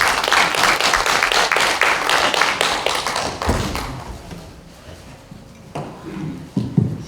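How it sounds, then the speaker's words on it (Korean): An audience at a forum lecture in a national assembly conference hall bursts into dense, loud applause that fades after a few seconds into scattered claps and a few thumps. "여러분 큰 박수로 부탁드립니다."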